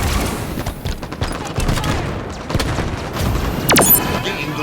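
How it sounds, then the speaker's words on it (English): Grenade blast and gunfire in a shooter video game, a dense rolling barrage of booms and shots with a sweeping whistle near the end, steady and loud throughout. "Incoming grenade."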